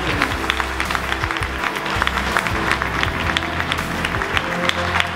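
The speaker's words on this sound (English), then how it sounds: "Let's give him a big round of applause." An audience at the Malta Innovation Summit gives a speaker a continuous round of applause, with scattered sharp claps over a dense, even crowd patter throughout.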